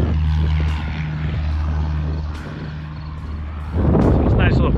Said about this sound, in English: See off there in the backdrop, we got the crop duster